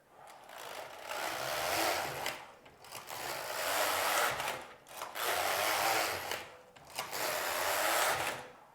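A Passap Duomatic 80 knitting machine carriage slides back and forth across the needle bed knitting rows of waste yarn: five long rasping, whirring passes separated by short pauses, close and steady, with no talk.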